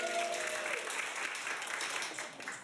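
An audience at a live improv comedy show claps and cheers loudly together, a dense wash of applause holding steady before tapering slightly at the end.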